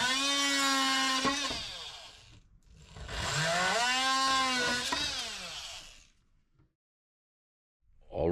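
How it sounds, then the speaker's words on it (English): An oscillating multi-tool cuts apart glued pieces of an old kitchen worktop in two loud, whining bursts, each pitching up and down, with a pause between them and a quiet gap near the end. "I'm just going to have to separate them by using the multi-tool"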